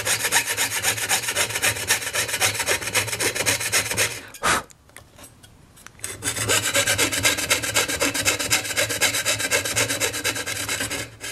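A hand saw rasps through wood being cut for a pierced spatula, loud, close and rhythmic, with a short pause midway before the steady back-and-forth strokes resume.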